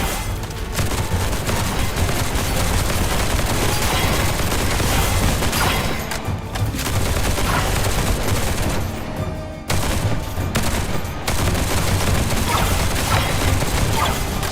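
Relentless gunfire from the video game Duet Night Abyss: loud, continuous volleys of rapid shots mixed with heavy booms, broken only by brief lulls in the barrage.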